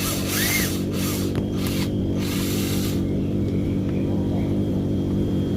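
A power drill whirs in several short bursts while boring a small hole for the fitting of a homemade CO2 mixer, then falls away to a quiet background hum.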